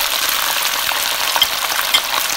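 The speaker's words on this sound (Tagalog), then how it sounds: "Ngayon po, isusunod na po natin ang tofu." Tofu frying in hot oil gives a loud, dense, steady sizzle close by, with a few faint stirring touches and no voices.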